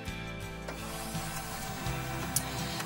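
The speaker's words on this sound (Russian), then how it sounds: "после этого включаем принтер" An HP printer powers up with a steady low mechanical hum and faint whirring, clicking gears inside, heard alone and fairly quiet at close range.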